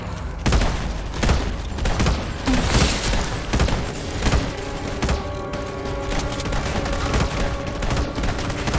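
A shoulder-mounted turret fires in the Red Solstice 2: Survivors video game, wielded by a heavy-class soldier. It lets off a loud, relentless stream of rapid gunshots with dense thumping bursts that barely pause throughout.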